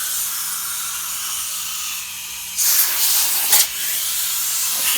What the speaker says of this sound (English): all you need is an air chuck and some compressed air, and you can just kind of blow them off